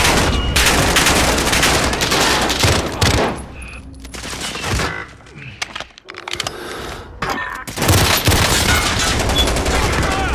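Dense, continuous gunfire in Call of Duty: Modern Warfare, with rapid automatic bursts and heavy booms crowding close, briefly thinning to a lull in the middle before resuming loud.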